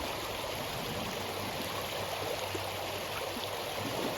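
Water runs steadily through the riffles of a sluice box during beach mining on the Lake Michigan shore, a constant close rushing and trickling with no pauses and no voices.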